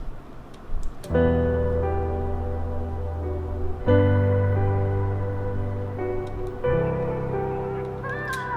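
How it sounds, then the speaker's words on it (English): Sustained choir pad chords layered over a steady piano line, shifting chords every few seconds with no voices speaking. "So with the choir, it sounds like this."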